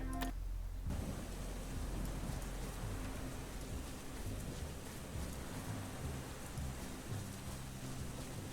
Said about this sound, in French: Faut attendre la fin de la pluie